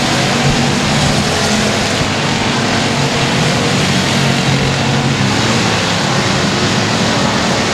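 Dirt track race cars roar down the front stretch at a speedway, a dense, continuous wash of engine noise heard from the stands, loud and steady with no clear individual passes.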